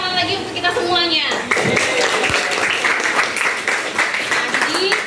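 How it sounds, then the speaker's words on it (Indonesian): A classroom audience claps together in a steady patter of applause that lasts several seconds. Someone talks over it at the start, and her voice continues above the clapping. "dan tepuk tangan lagi untuk kita semuanya"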